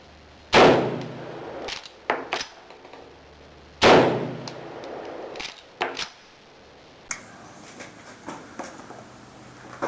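A Remington Model 11 semi-automatic shotgun fires two sharp, loud shots of light loads a few seconds apart. Each shot is followed by lighter metallic clanks from the action cycling, then a few scattered clicks.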